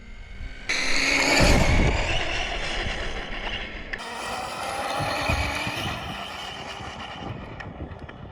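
A Vanquish VS4-10 Phoenix RC crawler runs at full throttle outdoors, its electric motor whining loud and high, easing off briefly, then surging again and fading as it drives away, with some wind buffeting the microphone.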